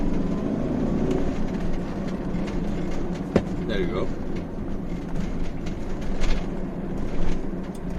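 A car's engine and road rumble fill the cabin while driving on poor roads, a steady low drone with rattles from the interior and a brief knock, under a man's short spoken remark.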